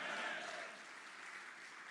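A large crowd of party workers at a BJP foundation-day gathering applauds the Prime Minister, a faint, dense wash of clapping that slowly fades from the start.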